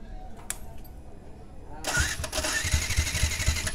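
A Yamaha R15 V2 motorcycle with a no-start fault has its electric self-starter crank the engine in a steady, close whirring churn that kicks in suddenly after a quieter lead-in with faint clicks, while a voice speaks.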